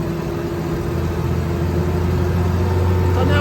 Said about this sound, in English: The revs are going higher.